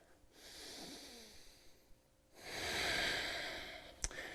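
Steady exhaled breath during a core exercise, a soft breathy rush of air that swells over a couple of seconds and ends with a brief sharper puff, close and fairly quiet.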